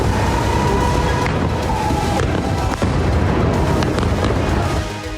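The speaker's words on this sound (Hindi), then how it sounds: "ईरानी मिसाइलों और ड्रोन से इजराइल के शहर दहल रहे हैं।" Iranian missile and drone strikes hitting Israeli cities: a dense, loud, continuous roar of blasts and rumbling booms with sharper bursts cutting through, sustained throughout with no talk.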